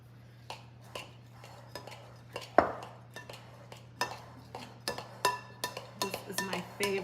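A knife works through an apple crumb pie topping in a bowl, with repeated light clinks and scrapes of the blade against the dish coming in an irregular rhythm, close and moderately loud.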